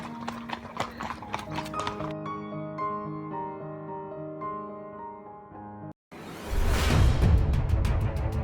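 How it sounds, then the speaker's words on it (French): A herd of horses passing along a rural path on the Camino Francés, hooves clip-clopping in a loud, close rush after a stretch of sustained tonal sound, with no talk over them. "tout un tas de chevaux qui sont passés sur le chemin"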